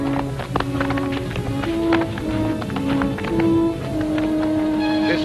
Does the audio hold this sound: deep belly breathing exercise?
no